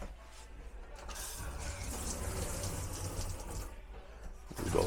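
Water runs steadily from an RV shower in a 2026 Jay Flight SLX 260BHW travel trailer during de-winterizing, a continuous broadband hiss that swells slightly near the end, with no talk.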